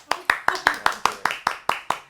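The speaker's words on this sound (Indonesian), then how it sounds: "Tepuk tangannya mana?" Ten evenly spaced, sharp hand claps from a single person, close and loud, opening an Indonesian podcast episode, with no talking over them.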